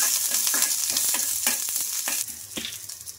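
Green chillies frying with chopped ginger and curry leaves in hot oil, a steady close sizzle broken by repeated scraping stirs of a spoon against the pan, with no voices.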